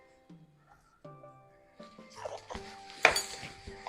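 Egg foo young pork mixture stirred in a bowl, with soft scraping and clinking of a utensil against the bowl growing busier toward the end, close and fairly quiet.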